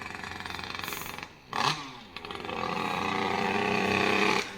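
A Derbi moped engine fitted with an 88 cc top end and long-stroke crank, still being run in, revs hard with a buzzing two-stroke drone that briefly drops and climbs again.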